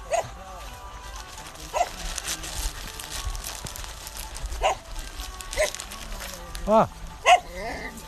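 On a canal towpath walk a dog gives several scattered yips and whimpering barks, rising to a quick cluster near the end, while someone talks nearby.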